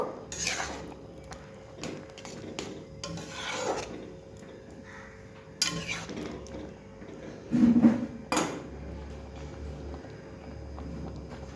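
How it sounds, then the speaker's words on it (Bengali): Shukto, a Bengali mixed-vegetable dish, is stirred in a pan after mustard paste goes in, giving rasping, scraping strokes of a spoon against the vessel with a few louder clatters, close and without talk. "সর্ষে বাটা দিয়ে এটা একটু ভালো করে নেড়ে নেব"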